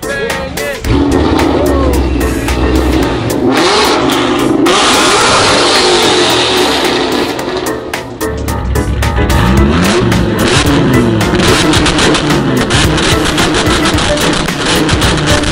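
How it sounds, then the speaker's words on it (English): Several dirt bike engines rev hard together, loud and continuous with surging throttle blips and brief dips, close by; a faint voice is briefly audible in the mix. "All right, everyone start revving their head."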